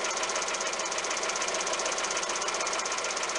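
Worn valve rocker arms tick steadily in a Volkswagen Golf 1.4 16V engine with over 300,000 km, a fast, even metallic chatter over a constant idling hum with no pauses.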